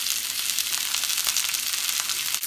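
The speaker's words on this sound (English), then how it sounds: "You want to get a nice crispy sear that is a nice caramelization on each side of that pork" Pork sears in a hot pan for crispy caramelization, a steady dense sizzle of bright crackling spatter that runs loud and close throughout with no voices.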